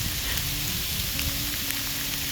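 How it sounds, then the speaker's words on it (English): Hail falls outdoors, a dense, steady patter of many small impacts forming an even hiss with occasional sharper ticks. "And now it's hailing."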